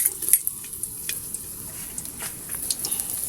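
Chopped garlic frying in a hot pan as the base for a pork oregano curry: a steady, close sizzle with a few scraping stirs and light crackles, no voices.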